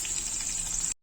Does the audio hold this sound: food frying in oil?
yes